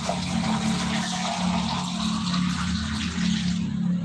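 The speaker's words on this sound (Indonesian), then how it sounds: "Kita siram aja air ya" Water pours steadily into a cooking pot for fish pindang, a continuous close splashing wash that runs alone without pause.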